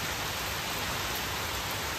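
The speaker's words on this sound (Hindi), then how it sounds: "देखो कितनी तेज़ बारिश शुरू हो गई है" Heavy rain falls in a dense, steady hiss with no break, loud and close, with no other sound over it.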